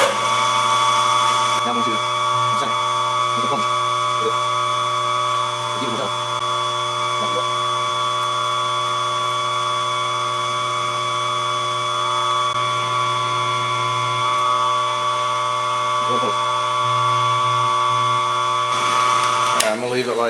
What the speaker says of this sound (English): So I'm going to take this to the mill and put that slot in.